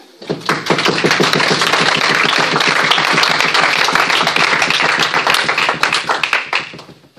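A church congregation breaks into loud, sustained applause, with dense rhythmic clapping that fills the space for several seconds before thinning out near the end.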